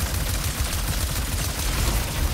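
Rapid, continuous gunfire in the video game Ratchet & Clank: Rift Apart, a dense rattling barrage of shots that stays loud and unbroken from start to finish.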